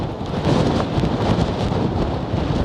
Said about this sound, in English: Just trying to keep the camera still in this wind is almost impossible.